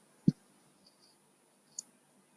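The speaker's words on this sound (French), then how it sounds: "Donc, on clique dessus" A single close mouse click, then a fainter second click about one and a half seconds later, in an otherwise quiet room with no talk.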